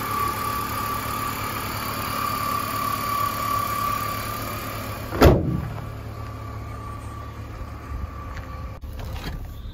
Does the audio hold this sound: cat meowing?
no